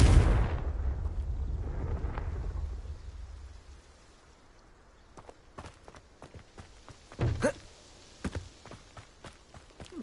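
Confringo spell blasts in Hogwarts Legacy open with a heavy booming explosion that rumbles away, followed by several sharp, scattered impacts and crackles.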